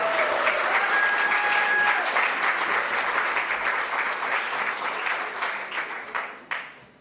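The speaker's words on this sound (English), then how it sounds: "Would you give him a big round of applause, please?" An audience at a political voter gathering for a Senate race breaks into full, sustained applause with a brief whistle early on, then fades to a few scattered claps.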